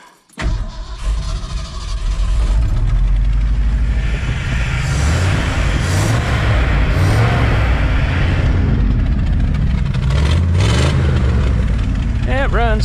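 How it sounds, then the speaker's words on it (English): A Ford F26 highboy truck with a vacuum leak cranks and fires up, then runs loud and rough as the engine is repeatedly revved, with voices talking over it. "Let's see if it'll start up. I'll show you guys how it runs."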